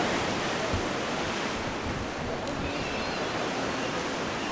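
Sea waves splashing against a pier, a loud continuous rushing wash of surf with wind noise, close and steady, with no voices.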